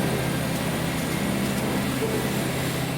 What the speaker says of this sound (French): On sent le vieux moteur peiner et tousser un peu dans les montées.